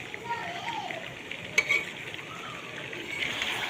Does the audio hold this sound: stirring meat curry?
yes